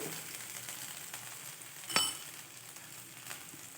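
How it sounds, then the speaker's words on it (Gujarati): Chopped garlic and ginger roast in hot oil in a pan with a steady, soft sizzle, broken by one brief metallic clink near the middle, close and fairly quiet with no talk. "લસણ અને આદુનું એકદમ કાચો ટેસ્ટ આવશે, એટલે આને થોડુંક શેકી દેવાનું એકદમ."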